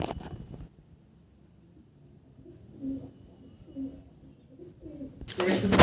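Andhra pigeons give soft, low coos a few times, close and fairly faint, with a burst of louder noise at the start and end.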